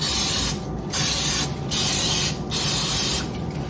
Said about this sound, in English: So I'm going to spray each of the molds.